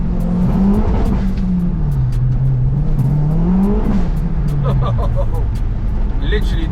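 A 370bhp Ford Focus RS Mk1 engine revs up and down in a loud, close rise and fall, with a brief voice near the end.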